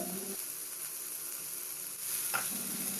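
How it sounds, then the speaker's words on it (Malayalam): Tomatoes sautéing in a pan for a cauliflower curry make a soft, continuous sizzle, fairly faint and even, with a short scrape of stirring partway through. "എന്നിട്ടെല്ലാം കൂടി നല്ലതുപോലെ വഴറ്റി കൊടുക്കാം"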